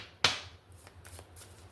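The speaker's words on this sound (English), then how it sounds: "Let me shuffle" A quick riffle of playing cards being shuffled, one sharp burst followed by a few softer flicks, close and fairly quiet.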